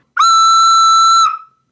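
A big 3D-printed giant whistle, printed on a Prusa i3 MK3S, is blown in one loud, steady, piercing blast of about a second, with bright overtones, ending abruptly with a short tail.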